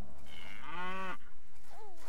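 A cow in Stronghold HD gives a single loud, drawn-out moo that swells and then cuts off, followed by a short softer lowing call, close and clear with no talk.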